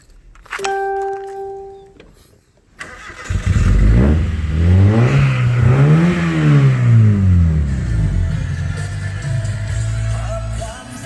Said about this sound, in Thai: สตาร์ทเครื่องยนต์ก่อนแล้วกันนะครับ